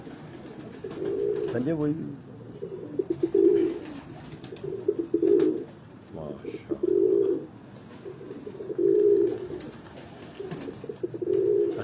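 Pigeons on a Lahore rooftop coo in a steady, repeating rhythm of low, throaty phrases, each lasting about a second, close and clear, while someone speaks briefly.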